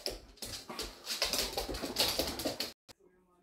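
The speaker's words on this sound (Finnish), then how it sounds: "Kahden ison koiran paini saattaa näyttää hurjalta, mutta vaan puhtaasti leikkiä." Two big dogs play-wrestle at home, giving off a busy run of scuffles, panting, short growls and whimpers that ends abruptly, with a person's voice mixed in.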